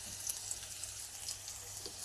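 Green chillies frying in oil for upma, a faint, steady high sizzle with small crackles, quiet and without speech.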